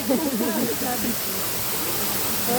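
A waterfall gives a steady, broad rushing roar close by, with a voice talking and humming over it at the start and again briefly near the end.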